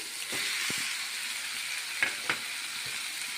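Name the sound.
cut cucumber pieces added to cooking tomatoes in pan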